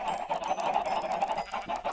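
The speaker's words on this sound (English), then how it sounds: "Come on here, chickens." Minecraft chickens cluck over and over in a busy, continuous stream of clucks from the video game, with no talking.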